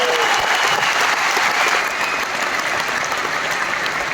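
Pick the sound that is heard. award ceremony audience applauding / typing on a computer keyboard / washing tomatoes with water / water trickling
award ceremony audience applauding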